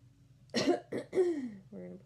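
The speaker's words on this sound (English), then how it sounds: "Sorry about the coughing, my allergies are crazy right now." A woman suffering allergies gives a few short, close coughs in a quiet room, three sharp bursts followed by a softer throat-clearing sound.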